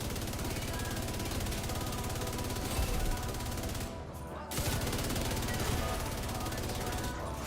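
Rapid automatic gunfire in The Division 2 runs nearly continuously as dense, loud bursts, with a brief break near the middle before it resumes, layered with game sound and music.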